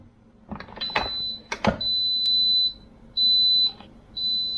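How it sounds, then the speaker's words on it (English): Clicks and clatter as the lid opens, then an Instant Pot Duo Evo Plus 8-quart pressure cooker beeps with several long, steady, high electronic tones separated by short pauses. "the beeping is just telling me that I opened the lid and the meal is ready."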